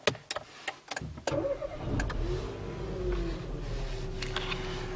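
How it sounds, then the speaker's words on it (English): A few clicks and knocks, then a Renault Captur engine cranks and catches, settling into a steady running rumble with a faint rising whine, close by. "So I'm just going to start up the car real quick."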